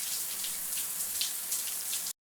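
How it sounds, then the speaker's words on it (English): A decontamination shower runs steadily, a dense hiss of falling water heard alone and close for about two seconds before cutting off abruptly. "Use decontamination shower."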